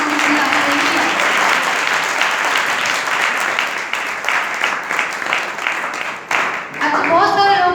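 A congregation at a live Sunday preaching service applauds loudly, a dense, sustained wash of clapping lasting several seconds that thins briefly before a voice begins speaking at the end.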